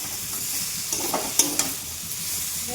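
A fish head fries with spices in a pan for a Bengali ghonto, making a close, continuous sizzle with busy stirring and a couple of crisp clinks from the spatula.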